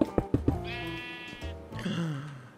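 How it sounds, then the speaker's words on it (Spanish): Sheep in the Minecraft video game bleat twice in drawn-out, wavering calls, following a few quick clicks, close and clear with no speech. "Hay 2 ovejas. Hay que llevarlas a salvo."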